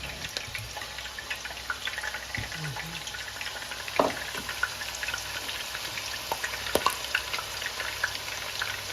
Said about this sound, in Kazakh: Қызып тұрған майға картошкамызды саламыз.